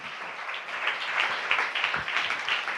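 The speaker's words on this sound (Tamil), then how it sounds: "நல்ல கைத்தட்டி ஆண்டவருக்கு ஒரு நன்றி சொல்லுங்க" A church congregation in a Tamil-language service breaks into steady applause, a dense wash of many hands clapping together at moderate distance.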